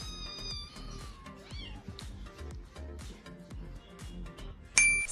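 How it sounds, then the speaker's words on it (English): Fluffy kittens meow in a quick run of short, high cries that carry on steadily, close and fairly loud, with a bright clink at the very end. "Fluffy kittens."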